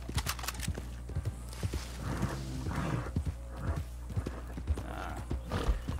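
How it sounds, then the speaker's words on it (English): Horse hooves clip-clopping in the Red Dead Online video game, a steady run of close, distinct hoof strikes with a faint whinny, no talk over it. "they're very strong horses"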